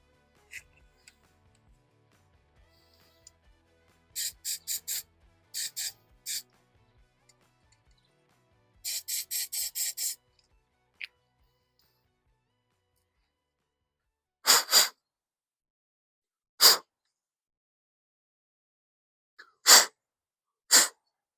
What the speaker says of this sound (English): Just sprayed it with some brake cleaner